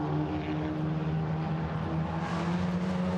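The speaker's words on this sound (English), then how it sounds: "Volkswagen Racing Cup as frenetic as ever as they come out of Coppice" Volkswagen Racing Cup race cars at Donington Park roar out of Coppice corner, a steady, fairly distant engine drone with a slight swell toward the end.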